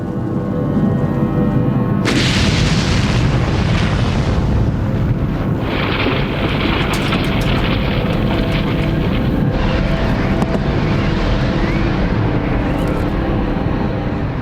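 Atomic bomb test explosion on a steel tower in the desert, heard as a loud, sustained roaring rumble that fills the whole stretch with no letup and no voices.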